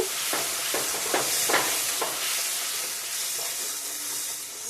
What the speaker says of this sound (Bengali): জিরে গুঁড়ো ধনে গুঁড়ো সব মশলা ভালো করে কষিয়ে নেব